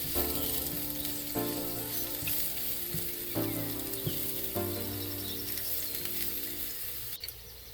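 Half a cup of diced onion sautéing in oil for Jamaican beef patties, a loud continuous sizzle with a few soft stirring scrapes, close and without talk.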